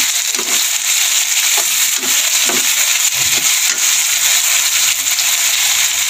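Browned onions and beef brain masala cook in plenty of oil, giving a loud, constant sizzling hiss with a series of soft, rhythmic scraping strokes from stirring underneath.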